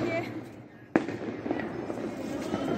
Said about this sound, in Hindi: देखिए क्या पटाखे छिट रहे हैं।